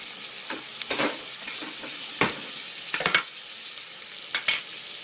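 Onion, cinnamon and cloves fry in a pan for tomato sambar, a steady close sizzle broken by several sharp bursts of stirring and spatula scraping, with no voices.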